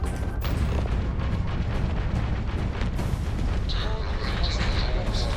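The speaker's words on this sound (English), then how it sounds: "Like a missile's on my ass." Missile explosions and heavy weapons fire in the space combat game Starfield, a dense continuous barrage of loud booms and blasts with bright electronic tones rising near the end.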